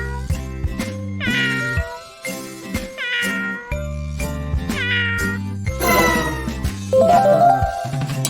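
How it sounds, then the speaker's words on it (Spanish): Cat meowing in a series of loud, close meows and drawn-out yowls, one after another, with a faint jingling near the end. "Gato."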